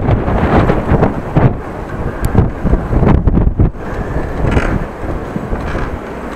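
Wind buffeting the microphone while cycling through Groningen, loud gusty rumbling that surges and eases in uneven bursts, with no one speaking.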